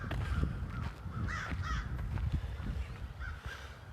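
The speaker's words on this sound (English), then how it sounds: "As you can hear, the crows are up bright and early." Several crows caw repeatedly at dawn, with harsh calls spaced out over a steady low background rumble, fairly clear and moderately near.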